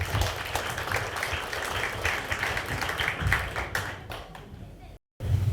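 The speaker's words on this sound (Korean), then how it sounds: "큰 박수로 모시겠습니다." Audience applause at a Korean book concert and publication celebration in a hall, steady clapping filling the room for several seconds before a brief cut, with some murmuring mixed in.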